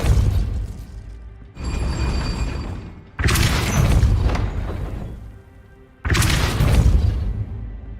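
Depulso force spells cast in Hogwarts Legacy, three loud booming bursts, each a sudden blast that rumbles and decays over about a second and a half before the next one strikes.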